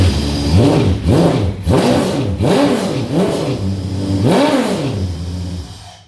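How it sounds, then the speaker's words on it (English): A car engine roars close by as the throttle is blipped repeatedly, rising and falling in about five sharp revs before settling and fading at the end, with no talk over it. "Right, so the car's running great."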